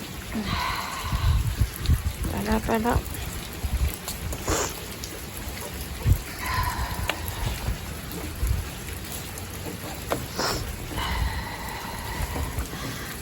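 Rain falls steadily around a roadside shelter in Thailand, a constant hiss of drops with occasional louder patter, while someone speaks briefly near the microphone.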